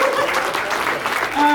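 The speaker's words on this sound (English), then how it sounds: "Please give me a round of applause." Audience clapping at the Multicultural New Zealand Community Awards gala dinner, a short burst of dense applause at steady loudness with some voices mixed in.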